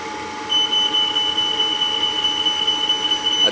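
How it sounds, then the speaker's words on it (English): A high-pitched continuous electronic tone like a smoke alarm sounds upstairs during a gas furnace start-up, steady and moderately faint over a low mechanical hum. "the smoke alarms are going to go off upstairs"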